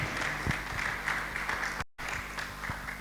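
Congregation applauding and cheering together at an international church conference service, a dense, steady wash of clapping and crowd noise that carries on throughout with a brief dropout midway.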